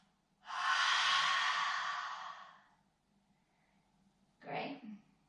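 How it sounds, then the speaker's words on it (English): A single long, soft exhale out through the mouth during a family yoga breathing exercise, close and breathy, followed by a brief quieter breath about two seconds later. "inhale in through the nose. Feel that belly expand. And breathe out of the mouth."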